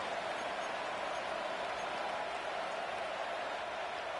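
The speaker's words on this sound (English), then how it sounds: "The crowd cranking it up another notch before 3rd and long." Stadium crowd in an American football video game, a steady faint roar of cheering and noise filling the whole stretch without breaks, distant and washy.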